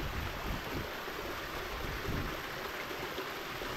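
Water rushing at the source of a river in the Dominican countryside, a steady broadband wash of flowing stream noise with light wind buffeting, heard alone with no talking.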